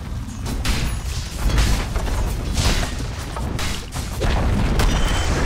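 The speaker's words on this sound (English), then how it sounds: "Dire's top tower has fallen." A top tower falls in a Dota 2 match, with heavy booming crashes and rumbling destruction blasts that roll on loud and dense for several seconds.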